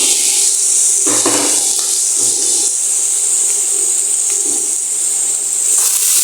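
A lid comes off a pot of onions and garlic frying under cover, with a loud constant steamy hiss and a few metallic clanks and knocks of the lid and pot close by.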